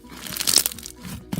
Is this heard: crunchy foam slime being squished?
yes